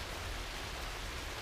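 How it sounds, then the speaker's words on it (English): Rain in the Thai rainy season, a brief steady hiss of downpour, soft and even, with no voices over it. "Thailand's dry for 9 months of the year, and then it just rains."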